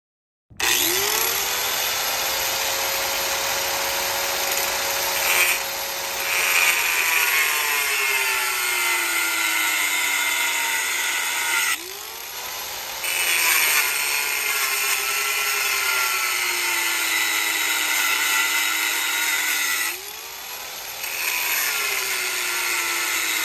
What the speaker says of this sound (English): let's cut these brackets down with the angle grinder